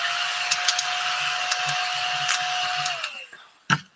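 A small hoover vacuum cleaner runs steadily while tidying up, a constant motor whine with light rattles, then it powers down near the end, followed by one sharp knock.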